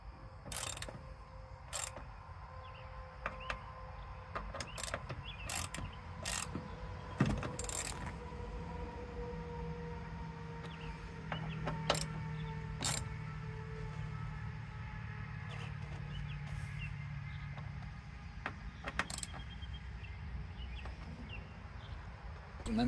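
A ratchet tightens bolts on Cusco door stabilizers fitted to a 2007-2011 Toyota Yaris, heard as faint, irregular clicking bursts over a quiet, low hum in a calm space.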